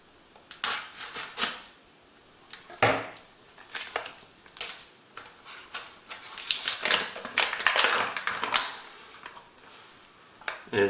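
A pouch of scrambled eggs with ham, peppers and cheese from a 2013 US cold-weather military ration is cut open, giving a series of sharp, close clicks and plastic crinkles in irregular bursts.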